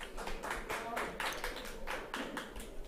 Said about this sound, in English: A smattering of applause in the room